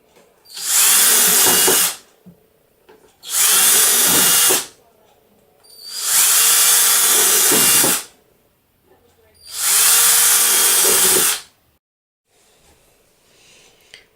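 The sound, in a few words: power drill drilling ventilation holes in plastic isopod bin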